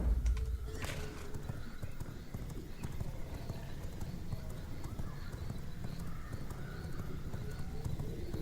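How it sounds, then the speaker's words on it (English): A horse gallops in the vampire survival game V Rising, with steady, rapid clip-clop hoofbeats and a brief whinny near the start, carrying on loud and even throughout. "Let's get on the horse."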